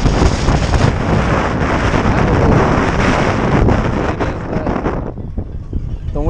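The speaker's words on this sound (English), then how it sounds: "We're fishing in 40-mile-an-hour winds here." Strong wind of about 40 miles an hour roars and buffets the microphone during ice fishing out on an open frozen lake, a loud continuous rushing gust that eases slightly near the end.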